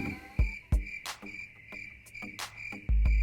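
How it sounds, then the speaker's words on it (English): Steady, high-pitched cricket chirping runs throughout, with a few sharp knocks and thumps cutting in, including a louder rumble at the end. "this we gonna have the crickets"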